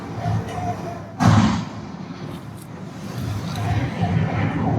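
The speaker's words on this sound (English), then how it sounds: "Fire star shell, number one." A star shell fired from a warship at night against a submarine, one sharp thudding launch report over a steady engine-like rumble, followed by faint scattered knocks.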